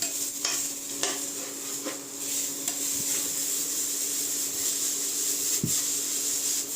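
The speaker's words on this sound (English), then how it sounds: "Keep stirring, mixing your vegetables" Vegetables sizzle steadily in a pan while a spatula stirs them for teriyaki rice noodles, with occasional scraping and tapping strokes over a continuous frying hiss and no talking.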